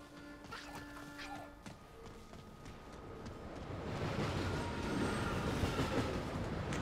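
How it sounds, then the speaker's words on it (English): Train arriving in Infinite Warfare Zombies: tones and a soft rumble build into a louder rushing, rattling roar as it pulls in, with no talk over it. "when the lights turn green, the train comes in quick, doesn't it"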